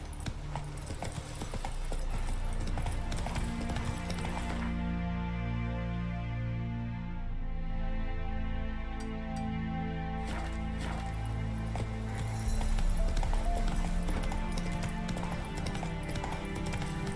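Roach the horse galloping in The Witcher video game, a steady run of hoofbeats under a loud game soundtrack, easing briefly in the middle before picking up again.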